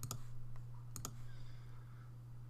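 Mouse clicks in a WordPress page options panel, a single click followed by a quick double click, crisp and close over a steady low electrical hum.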